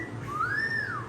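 A whistle is blown once in a single sustained, bright tone that bends slightly up and back down, heard fairly close over a low background hum.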